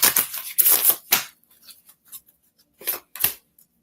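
Oracle cards being shuffled by hand, heard as several short, crisp riffling bursts close up, separated by brief quiet pauses.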